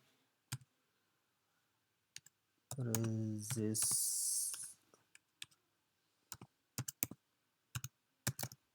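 Scattered keystrokes on a computer keyboard click in short clusters, broken midway by a loud, sustained tonal sound and a hissy burst before the typing resumes in quick close taps.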